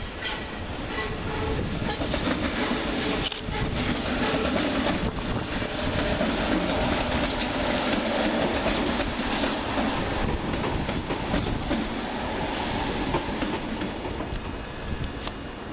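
Several Southern Railway class 377 electric trains pull out of Brighton station bound for London Victoria, a steady loud rumble of wheels and traction with rail squeal and clatter throughout, no talk.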